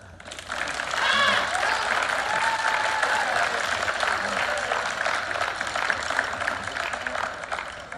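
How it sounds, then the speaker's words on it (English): Sustained applause from a holiday concert audience, directed at the school band, a dense and loud wash of clapping that fills the hall throughout, with some crowd noise mixed in. "Band, how about you guys give the audience a round of applause?"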